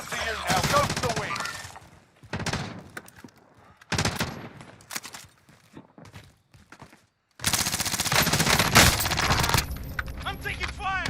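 Bursts of gunfire in a battle-royale style shooter game, loud close volleys broken by quiet gaps, with voices talking between and over the shots.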